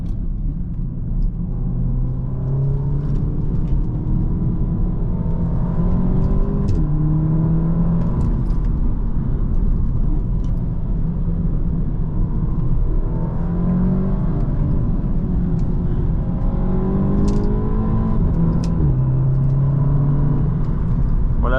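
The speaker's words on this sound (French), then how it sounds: "la boîte passe quand même les vitesses pour qu'on n'aille pas chercher le rupteur" Audi S3 8V sedan, Phase 1, accelerating hard with its automatic gearbox shifting up before the rev limiter; a steady loud engine drone rises and resets through several gear changes, heard from inside the car with no talk.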